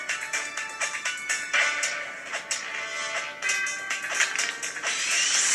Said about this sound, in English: Now we're trying out Defender by Droidhen.